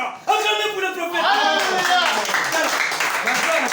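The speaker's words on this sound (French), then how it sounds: "Acclamez pour le prophète." A church congregation claps together for the prophet, with loud steady rhythmic clapping under singing and shouting voices throughout.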